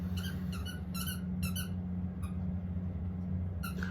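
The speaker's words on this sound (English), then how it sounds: "once my dog stops squeaking her toy all the time" A dog squeezing a squeaky toy, several clusters of high squeaks at uneven intervals over a steady low hum, fairly faint and a little distant.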